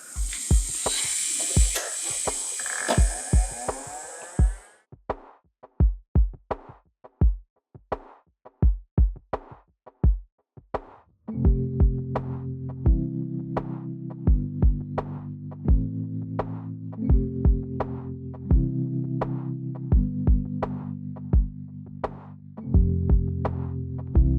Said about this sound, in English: I am ready to debulk this nail with my medium grit ceramic, and I will be working at a high RPM